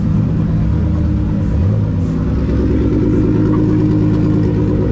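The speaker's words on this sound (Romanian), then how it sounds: "Asta e mașina lui Jake din Anglia" A car from England idles near a racing event entrance lane, its engine a steady, close, low rumble with a brief rise in pitch partway through, no talk over it.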